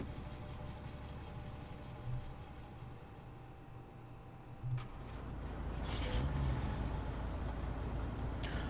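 An old-school Volvo rigid truck in Euro Truck Simulator 2 starts from the outside. Its diesel engine cranks with a couple of low thumps, then settles into a steady, deep idle rumble that grows fuller and continues.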